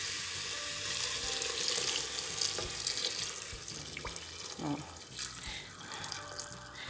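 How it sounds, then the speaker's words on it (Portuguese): Hot water pours from a kettle into a pot for chicken and hominy soup, a loud, steady splashing gush with bubbling and a few clinks and knocks against the pot. "E agora eu venho com água quente."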